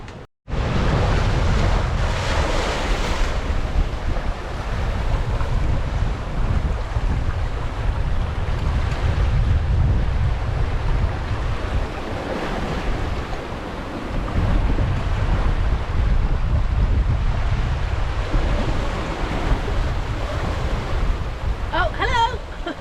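Wind rushes over a sailing yacht making about 7.5 knots in 22 knots of breeze on open sea, a steady, loud roar of gusts and wave wash against the hull, with brief speech near the end.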